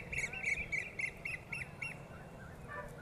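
Peacocks call repeatedly from nearby, a quick series of about eight short, loud, nasal cries in a steady rhythm over low background noise, with no talk.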